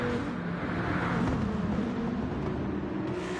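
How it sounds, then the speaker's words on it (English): GT3 race cars pulling out of the pit lane in a TCRT GTEL GT3 Series race, a steady broad engine drone that holds loud and continuous without clear individual pass-bys. "I can hear the cars. They're coming out the pits."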